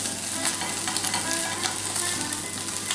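Steady crackling sizzle of chicken searing in a hot frying pan, continuous and close, with faint scraping of a utensil now and then.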